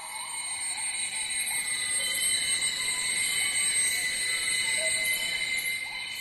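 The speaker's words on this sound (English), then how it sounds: "This is a recording that I made at night. And the animals are mainly frogs." Night chorus in a Borneo rainforest, mostly frogs, with dense layered high-pitched trilling and whistling calls held steady throughout, loud and constant, plus scattered brief chirps over a broad insect-like drone.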